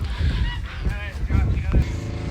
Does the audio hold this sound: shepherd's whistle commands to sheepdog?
no